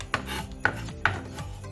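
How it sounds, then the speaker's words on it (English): A knife cutting onions, three distinct close chops or slices against a board in quick succession, fairly quiet with no speech. "That's the reason why I cut a lot of onion"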